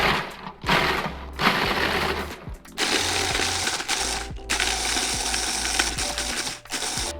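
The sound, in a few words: food processor pulsing graham crackers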